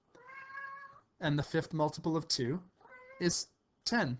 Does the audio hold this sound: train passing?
no